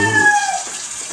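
Water from a strong tap pouring into a clogged kitchen sink, a loud close rush with a tonal ring that fades within the first half second, leaving a softer wash.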